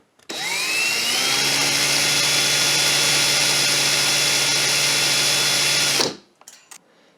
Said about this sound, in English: we're just going to straighten that out in our drill real quick